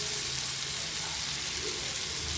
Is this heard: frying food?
yes